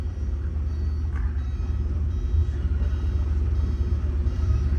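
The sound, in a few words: 1984 Porsche 944 engine running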